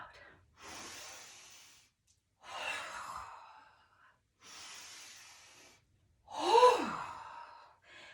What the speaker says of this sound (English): let's take 3 big breaths. Inhale, fill up, exhale, blow out.